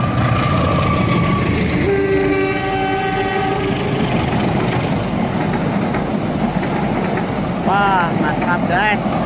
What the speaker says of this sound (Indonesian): Akhirnya dapat momen kereta lewat.